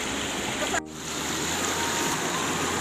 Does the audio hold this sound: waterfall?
yes